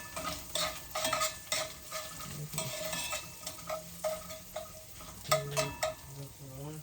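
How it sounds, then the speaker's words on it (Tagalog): Sardines stir-fried in olive oil in a pan crackle and sizzle while a utensil scrapes and knocks against the metal in quick, uneven strokes, close and moderately loud, with no voices. "Stir fry ta lang kadali."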